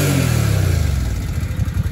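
A warmed-up Suzuki VL 800 Volusia motorcycle with a low-rpm power problem idles close by with a fast, rough, pulsing rhythm, loud and steady, easing slightly toward the end.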